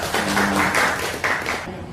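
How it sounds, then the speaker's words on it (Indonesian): Classmates clap for a student in a classroom, a steady burst of applause lasting about two seconds with a brief hum underneath. "Tepuk tangan dulu untuk temannya."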